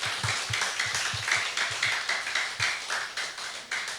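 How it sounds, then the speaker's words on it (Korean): A church congregation applauds steadily after a sermon, a dense, sustained wash of clapping hands with no pauses, fairly loud and close, with no voices over it. "우리에게 이렇게 말씀 주신 우리 목사님께 다시 한번 뜨겁게 박수해"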